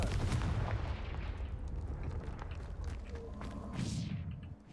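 A Confringo fire spell blasts in the video game Hogwarts Legacy, a loud booming burst of explosive rumble and crackle that swells across the whole span and fades slightly at the end, no speech.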